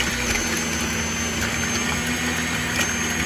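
A small electric tiller runs steadily in a garden, a continuous motor hum with a low drone and broadband churning noise, loud and close, holding level throughout with no voices.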